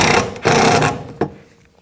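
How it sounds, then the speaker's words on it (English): A power driver whirs in two bursts while driving a screw into a 2004-10 Toyota Sienna door during a door check replacement, the second burst longer, ending with a short clack and fading quiet. "Now put this screw in and tighten it down."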